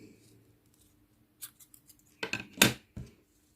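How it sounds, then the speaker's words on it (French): Scissors snip through thread while finishing a handmade Christmas reindeer craft: a few quiet, crisp cuts spaced over about two seconds, close by, with no talking. "Et je coupe ce fil."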